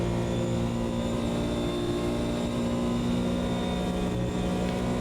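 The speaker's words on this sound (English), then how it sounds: "So yeah, the engine does sound very lazy." GT1 race car engine in the Automobilista 2 racing game, a continuous steady drone with strong tonal harmonics, holding a constant loud level with no talking over it.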